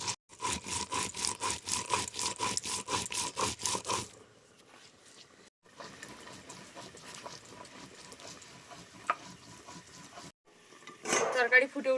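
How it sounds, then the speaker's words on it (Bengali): Dried chilli, garlic and cumin are ground into a paste on a grinding stone with rapid, rhythmic rubbing strokes, close and loud at first, then softer scraping and handling sounds follow. "আর এদিকে আমি মশলাটা বেটে নেব।"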